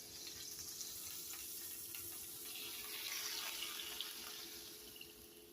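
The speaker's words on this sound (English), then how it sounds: "Now I'm going to drain the grease out of my skillet." Grease drains out of a skillet with beef in it as a faint, steady, hissing pour that swells slightly midway and then eases off, heard alone and quiet.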